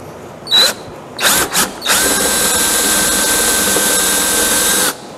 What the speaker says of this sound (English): I'm not gonna drill this too deep.